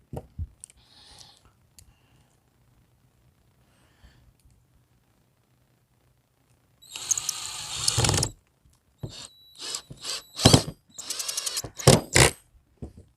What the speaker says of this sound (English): you take and drop a couple screws in here